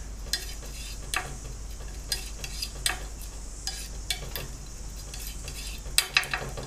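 Oil paint is mixed with a brush or palette knife for a landscape painting, quiet scattered taps and scrapes in an irregular rhythm over a low steady hum.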